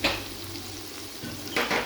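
Mutton keema fries in a pan as spices are added, giving a steady close sizzle with a stirring scrape at the start and another louder scraping, sizzling burst near the end.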